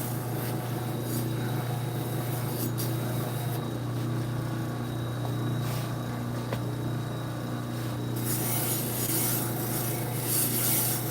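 A knife blade being satin polished, a continuous close abrasive rubbing and rasping that runs steadily throughout over a low hum, with no talking.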